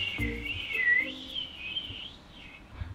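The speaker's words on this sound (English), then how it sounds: "But you're whistling." A person whistles a wavering, sliding tune, steady and fairly soft, with a couple of light knocks in the background.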